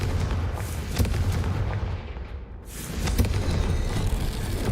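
Blasting explosion spell from the Hogwarts Legacy video game, a continuous roar of booming bursts and rumbling debris, loud and close, with a brief dip in the middle before the noise swells again.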